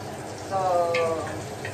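Chopped onions go into a hot pan of oil while pork BBQ is cooked, giving a steady sizzle and crackle that swells as they land. A voice talks over the frying.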